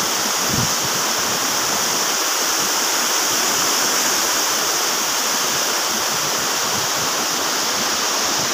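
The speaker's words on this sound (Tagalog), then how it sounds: "Ayun po yung falls dito." A waterfall at Seydisfjordur, Iceland roars close by as a loud, continuous, even rush of falling water.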